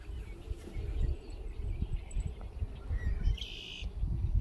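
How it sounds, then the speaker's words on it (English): Red-winged blackbirds call faintly at a campsite, thin chirps and a short trill rising over a low rumbling background, distant and intermittent. "I hear a whole bunch of red-winged blackbirds"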